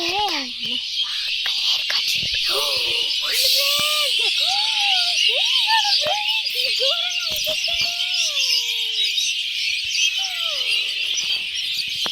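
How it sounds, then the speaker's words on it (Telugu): Many birds calling around a village: repeated short chirps and whistled, sliding calls over a constant high, hissing buzz, with faint voices now and then. "ఎన్ని పిట్టలు ఫ్రెండ్స్, ఇన్ని కన్నా పిట్టలు ఎప్పుడు ఉన్నాయి ఇంత."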